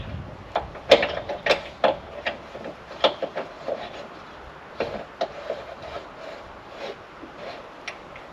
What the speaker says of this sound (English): Loosen the bolt. Line up the jockey wheel. Do up the bolt.